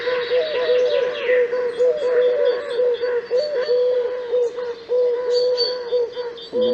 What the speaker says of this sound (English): And I think this is the sound of a Eurasian collar dove.